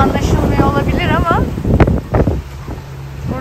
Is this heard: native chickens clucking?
no